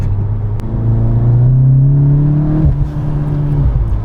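A 440-horsepower SEAT Cupra Leon engine revs hard and climbs in pitch as it accelerates, loud and close, with a brief gear shift before pulling again.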